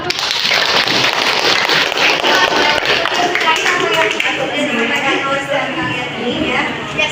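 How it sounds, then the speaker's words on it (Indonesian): A school class applauds during a lesson, a dense, loud wash of many hands clapping continuously throughout, with voices mixed in underneath. "Kasih tepuk tangannya dong."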